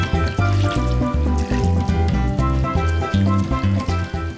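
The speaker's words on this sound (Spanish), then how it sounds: "Simplemente agarramos y le echamos limón." Freshly squeezed lime juice poured over ceviche, a close, loud run of wet glugging splashes and trickles with a pulsing rhythm, with no talk.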